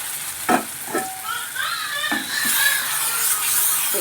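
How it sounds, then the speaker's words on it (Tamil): Onion and garlic sautéing in oil in a pan for a traditional kuzhambu: a soft steady sizzle broken by a few sharp clanks and scrapes of a spoon, with a brighter hiss building toward the end. "இந்த வெங்காயம், பூண்டு நல்லா எண்ணெயில் வதங்கட்டும்"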